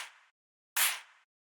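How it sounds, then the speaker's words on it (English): Two layered snare-clap hits from a PC music production: a softer, shorter snare burst followed after a gap by a brighter, louder clap that decays over about half a second, both dry and alone. "So then the next layer we have here is the snare clap thing"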